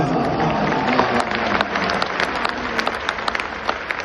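Steady applause from a sizable crowd, dense clapping that keeps going at an even level throughout.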